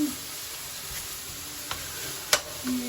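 Food frying in a pan as it browns, making a steady close sizzle and hiss with a few faint ticks of stirring.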